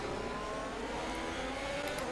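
Formula 1 car with a Ferrari engine in a racing video game at the Hungarian Grand Prix, giving a steady, continuous engine whine at high revs, loud and unbroken, with no talk over it.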